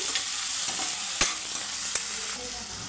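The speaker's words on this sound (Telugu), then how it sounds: "టమోటో కూడా సాఫ్ట్గా వేగాలండి" Tomato and onion frying in a pan for beaten rice upma, a steady close hiss of sizzling with occasional sharp clicks of a spoon stirring, no talking.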